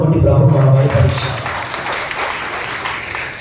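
A church congregation at Sunday worship breaks into steady, loud applause that carries on throughout, with a voice speaking over the start of it.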